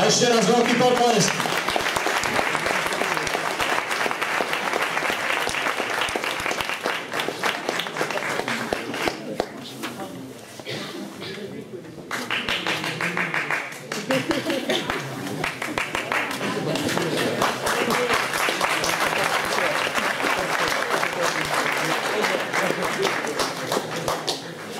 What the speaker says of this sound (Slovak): A ešte raz veľký potlesk.